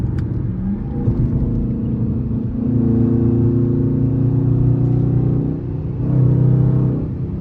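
A Dodge Charger RT engine with traction control off rumbles loudly from inside the car, swelling in two sustained revs with a deep droning tone.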